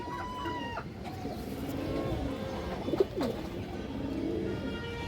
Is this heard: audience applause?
no